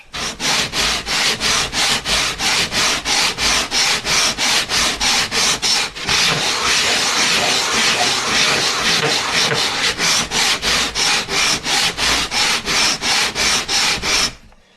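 Sandpaper rubs back and forth on the wooden sides of a handmade instrument in quick, regular strokes, about two per second, loud and close. Near the middle there is one longer continuous stretch before the rhythmic strokes resume.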